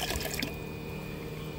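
Water pours into a 19-liter bucket for a Kratky hydroponics setup, with a short burst of splashing and dripping that settles into a steady close filling sound.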